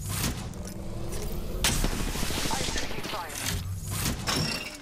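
Bursts of automatic gunfire from the Apex Legends video game crackle in rapid volleys among other game noise, with players talking over them.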